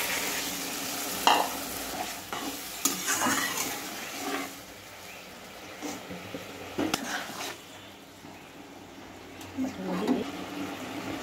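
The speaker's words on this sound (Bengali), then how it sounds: "তো এখন আমি দিয়ে দেবো জল" Water goes into a pan of soybean dish frying in a Bengali home kitchen, bringing soft sizzling and bubbling with scattered scraping stir strokes and occasional splashy bursts, close by and moderately loud.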